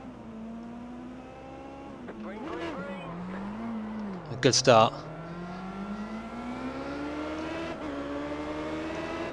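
Indy race car engine revving at the start of a race in the iRacing video game, rising and falling engine tones with a brief sharp burst midway, heard under a voice.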